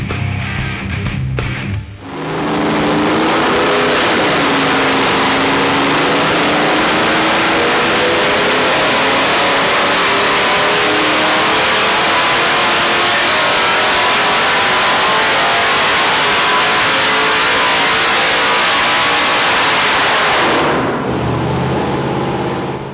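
A modified 6-liter engine with upgraded heads, cam and intake revs hard on a dyno, climbing in a long, loud, sustained pull after a short start and then cutting off near the end.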